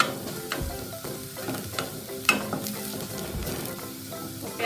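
Onions browning in oil for egg fried rice give a continuous close sizzle, with soft spatula scrapes and stirring taps at irregular intervals.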